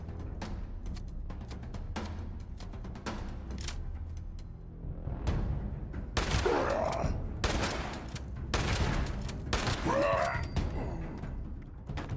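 A shotgun fires in Fallout 76 during a fight at Sunnytop Ski Lanes, giving several loud, sharp blasts spaced apart over a dense game soundscape of rumbling ambience, with no speech.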